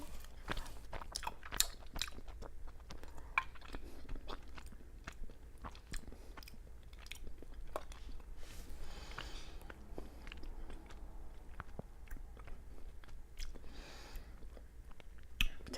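Close, quiet chewing of a rice cake filled with fruit-flavored bean paste, soft repeated sticky bites and mouth sounds continuing steadily with no talking.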